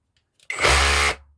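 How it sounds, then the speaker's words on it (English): Parkside PKHAP 20-LI A1 cordless hammer drill in hammer mode at full strength, a single loud, close burst of buzzing hammering that starts abruptly and stops after about a second. "you get quite a strong burst of hammer with the full strength on"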